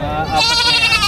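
A goat at a livestock market gives a short, loud, wavering bleat up close, lasting about a second, mixed with crowd chatter.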